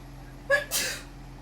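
One sharp close sneeze, a short intake followed by a loud burst, set against a faint steady low hum.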